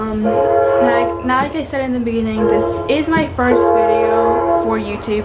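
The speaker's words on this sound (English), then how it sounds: "I'm sorry for the train in the background" A train horn sounds in the background on a summer day, sustained tonal blasts running under close, steady indoor speech that dominates throughout.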